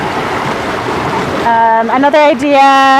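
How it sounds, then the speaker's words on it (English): A small creek flowing beside people sitting outdoors, a steady close rush of water under a voice that soon takes over. "if you don't have access to a creek, like this beautiful one that we're sitting by here"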